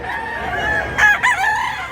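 A gamecock crows loudly nearby, a drawn-out, rising and falling cock-a-doodle-doo amid other chickens clucking in the background.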